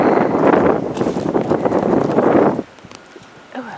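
Strong gusting wind during winter storm Nemo roars loud and broadband against the microphone for about two and a half seconds, then drops off sharply to a quieter lull.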